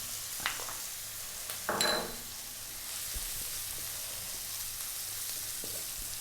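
Carrots dropped into a pan of sautéing garlic and onion, a brief clatter as they land, then a quiet, steady sizzle with no talk.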